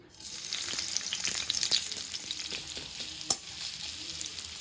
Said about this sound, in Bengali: নারকেলটাও এখন এটার ভিতরে ম্যাশ করবো